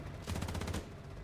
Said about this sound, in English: But still have the machine gun up top, this one does.